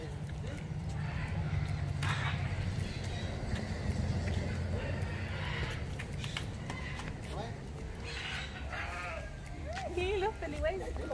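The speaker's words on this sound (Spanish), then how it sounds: "Desciende de la oveja enana de África." Sheep descended from the African dwarf sheep bleat at an animal sanctuary at a hotel in Apaneca. People talk throughout, and several bleats rise above the steady background, clearest near the end.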